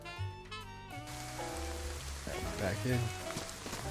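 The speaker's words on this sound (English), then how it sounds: "It started raining." Rain falls steadily in the survival game DayZ, a soft hiss running throughout beneath game tones and a brief spoken phrase.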